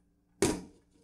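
A lid is set on a pot of beef soup with a single sharp metallic clink that rings briefly and fades, close and alone in a quiet kitchen.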